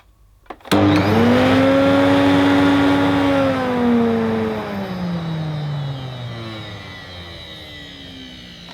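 An Electrolux 380 Turbomatic vacuum cleaner switches on with a sharp start, its motor whine rising then slowly sagging and winding down in pitch, loud and close, running less smoothly than it should.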